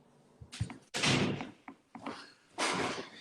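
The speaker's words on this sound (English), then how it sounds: "Let me shut the door real quick." An interior door is shut in a home, giving a few loud, close thumps and slams, the heaviest impact near the middle followed by another burst toward the end, with no talk over it.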